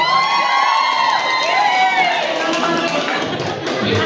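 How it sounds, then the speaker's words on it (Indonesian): A lively crowd at an Indonesian health office farewell and welcome ceremony, cheering and shouting with whoops, loud and close throughout, and rising and falling voices woven through the noise. "Kita kasih ucapan selamat dan tepuk tangan yang meriah."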